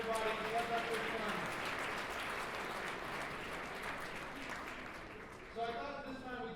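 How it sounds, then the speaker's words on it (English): Sustained audience applause at a charity gala fills the space, a dense steady wash of many hands clapping that holds evenly before tapering near the end as a voice begins. "Please give her another round of applause, everybody."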